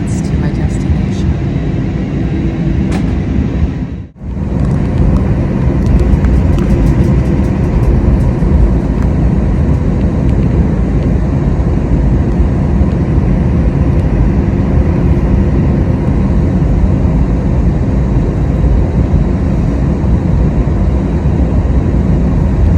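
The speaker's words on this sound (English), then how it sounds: "It's time for takeoff." Steady loud roar of an airplane cabin during takeoff, a broad rumbling engine and airflow drone that holds constant after a brief dip near the start.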